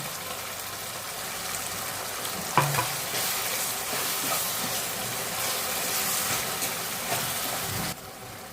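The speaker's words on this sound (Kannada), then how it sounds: "ತೊಳೆದಿಟ್ಕೊಂಡಿರೋ ಆಲೂಗಡ್ಡೆನ ಹಾಕೋಣ ಆಯಿಲಲ್ಲಿ ಸ್ವಲ್ಪ ಫ್ರೈ ಆಗಲಿ" Washed potatoes frying in hot oil in a pan for masala upma, a steady close sizzle and hiss with occasional stirring scrapes throughout, one sharper clatter near the middle and the frying dropping away at the very end.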